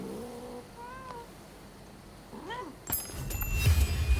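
In the Rise of the Ronin game, a small cat gives several short, high meows, close and fairly clear, followed by a brief burst of clattering and rustling noise.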